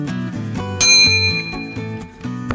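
A bright chime-like ding rings out over a steady musical background, its tone lingering briefly before fading.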